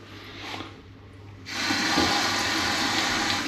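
Water gushes from a tap during a plumbing test on new fixtures, a steady loud rush that swells abruptly to full flow partway through, with quieter running before it.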